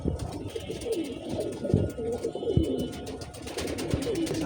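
Soft, repeated cooing of domestic pigeons close by, low murmuring calls overlapping one another over a faint background hum.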